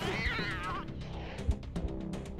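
A cat meows in the video game Wasteland 3, one drawn-out wavering cry at the start followed by game sounds and clatter.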